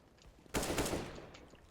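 AK rifle tap-firing in CSGO practice, one loud close burst of gunfire that decays quickly, with no voices.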